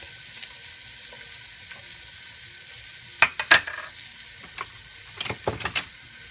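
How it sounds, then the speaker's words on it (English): About half a cup of onions and a little garlic sauté quietly in a pan, a low steady sizzle broken by a few sharp clinks and scrapes as they are mixed. "I'm just gonna mix this and let this saute for about 2 to 3 minutes"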